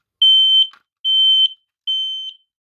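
Three loud, piercing beeps from a battery-powered smoke detector with a built-in battery after a hard reset, each tone lasting about half a second and evenly spaced, heard close up with no talking.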